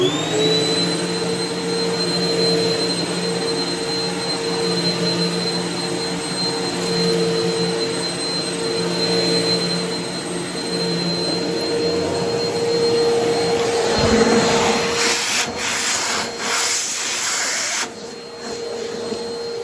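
A Hoover WidePath upright vacuum cleaner runs steadily with a loud motor drone and a high, piercing whistle on top, then sputters and rattles near the end.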